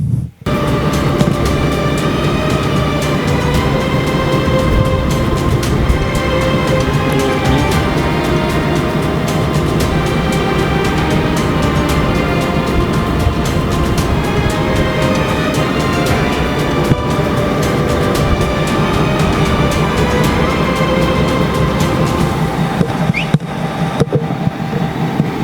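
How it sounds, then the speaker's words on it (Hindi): Railway locomotive turning around at a loco shed, with a loud, steady mechanical rumble and rolling rail clatter continuing throughout, rhythmic wheel clicks layered over a constant engine drone nearby. "ही तव्हां ॾिठो रेल जे इंजण जे मुड़ण जो तरीक़ेकार"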